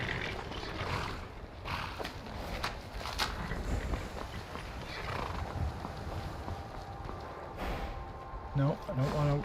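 A horse in the video game Skyrim, with hooves clip-clopping and a whinny amid steady game ambience, while a person talks over the sounds.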